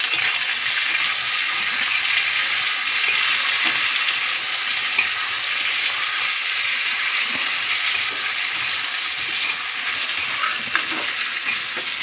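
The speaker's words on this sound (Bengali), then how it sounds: "পেঁয়াজটা আমার ভাজা হয়ে গেছে, এবার আমি দিয়ে দিচ্ছি টমেটো" Chopped tomato sizzles as it hits onions already fried in a pan for a Bengali tangra fish curry, a steady, loud, even hiss that fills the whole stretch with no talking.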